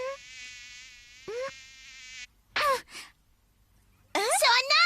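A cartoon fly buzzes with a steady, thin, close whine for about two seconds, then breaks off as gasping and exclaiming voices follow.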